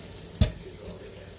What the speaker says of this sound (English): kind of hear my meat starting to sizzle again